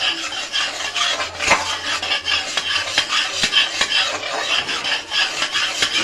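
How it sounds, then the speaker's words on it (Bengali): Caramel is stirred continuously in a pan, close and fairly loud, a rapid rhythmic scraping and rasping of a spoon across the metal with faint sizzling beneath, no voices. "আমাকে নেড়ে যেতে হবে।"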